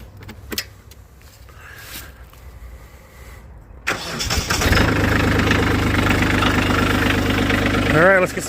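A Kubota BX compact tractor cranks and its engine catches, then settles into a steady, loud nearby idle after a quiet stretch with faint background sounds; a brief whine rises near the end.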